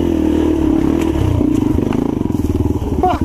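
A modded 2016 Yamaha TTR230 dirt bike, regeared and rejetted, revs loudly and steadily while being ridden, its engine note rising and pulsing up close with some clatter throughout.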